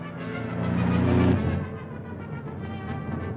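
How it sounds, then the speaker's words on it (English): A car engine in a 1937 mystery film drones from behind, swelling to a peak and then easing back into a lower steady hum, heard alone with no talk. "There's a car following us."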